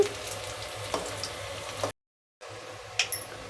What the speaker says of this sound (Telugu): చూడండి వేసేసాను పొట్లకాయ బజ్జీలు అయితే కొద్దిగా వేగనిద్దాము కలుపుదాము ఇంకొకసారి